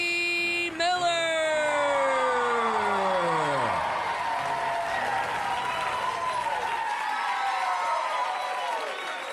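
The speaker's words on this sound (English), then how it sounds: "And that cheer was accepted, and I'm grateful." A studio audience cheers and applauds loudly for comedian Larry Miller at a live comedy show, a dense roar with a falling whistle-like tone, fading over the last seconds.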